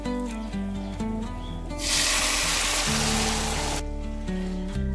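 Lentils (dal) poured into a hot oil tempering with ajwain, a sudden loud hissing sizzle bursting up for about two seconds in the middle, set against steady background music before and after.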